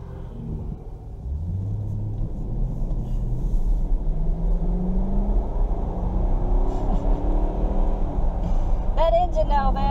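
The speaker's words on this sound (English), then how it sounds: "That engine though, man, this V8 sounds so good." A 2019 Toyota Tundra SR5 Off Road 4x4 with a V8 engine drives along, its steady low rumble rising slightly mid-clip as it pulls, heard from inside the cab with a brief voice near the end.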